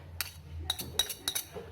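A metal spoon clinks against a glass container while salt is added to a rambutan pickle, a few quick bright taps spaced irregularly over a quiet background.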